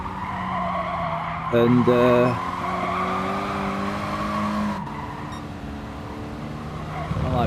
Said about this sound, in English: Front wheel drive car, Clio, so about 200 brake horse, just over.